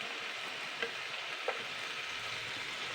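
Potatoes being lightly stirred in a pan: a soft, quiet sizzle continues throughout, with two brief scrapes of the spoon against the pan, close but faint, with no talking.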